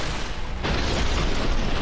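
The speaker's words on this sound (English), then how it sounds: "lots of booms" Explosions in the mech strategy game Phantom Brigade, a dense rumbling blast that swells abruptly partway through and keeps roaring loudly to the end, alone.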